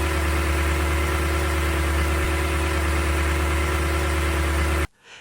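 A Toyota 5.7-liter engine idles steadily and close up on fresh 5W-30 oil, a dense, even hum that cuts off abruptly near the end.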